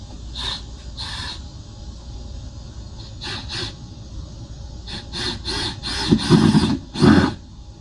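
Screws driven into new deck boards outdoors with a power driver: short whirring, squealing bursts come in irregular clusters, closely spaced and loudest toward the end.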